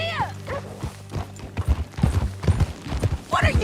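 Horse hooves clip-clop at a steady riding pace in Red Dead Redemption 2, close and rhythmic, with a few bursts of talk over the hoofbeats.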